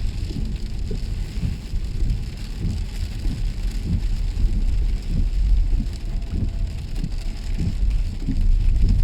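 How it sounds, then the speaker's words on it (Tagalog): Heavy rain pours at night while driving, a dense steady hiss with patter drumming on the car, continuous and fairly loud, with a low road rumble underneath and no talk. "Lakas pa naman ang ulan."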